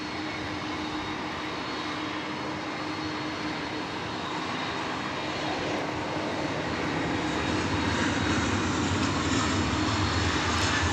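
A Frontier Airlines jet departs DFW Airport with a steady, broad engine roar, moderately distant and slowly growing louder, with no talk over it.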